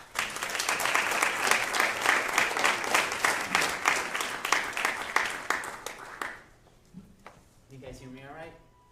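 Dense audience applause welcoming a speaker to a health care leadership talk, loud and sustained for about six seconds before fading into scattered claps and room noise.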